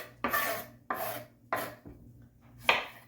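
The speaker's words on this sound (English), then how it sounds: "I've got some fresh onions from the garden as well, so we're going to chop those up" Fresh garden onions are chopped with a knife on a wooden block in a farm kitchen: four crisp, separate strokes about a second apart, each one a short rasping crunch, close and clear in a quiet room.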